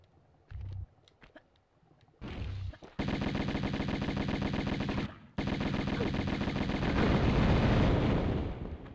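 Uzis fire in the 1996 video game Tomb Raider: a few short thuds open, then two long, loud, rapid automatic bursts rattle on with only a brief gap between them.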